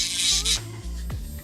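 A portable electric nail drill runs on its own, giving a steady high buzzing whine with a bright raspy edge that shifts slightly in pitch as it is handled.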